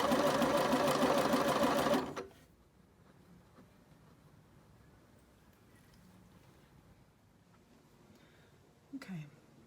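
A home sewing machine runs a lightning bolt stitch in a fast, even mechanical whir for about two seconds, then stops, leaving quiet room tone and a brief faint sound near the end.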